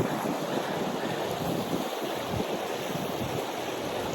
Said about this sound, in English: Now the wind's blowing that way